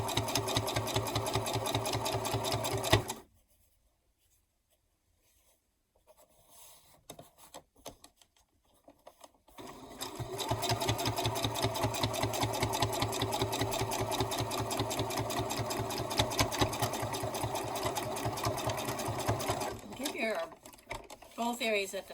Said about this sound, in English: you want to give them a couple good back and forth to reinforce that stitching